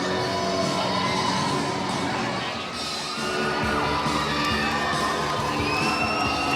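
A loud, dense crowd cheers and yells throughout at a 2006 CIF-LACS high school boys volleyball championship between Taft and Granada Hills, with whoops and shouts rising over a steady roar in a gym.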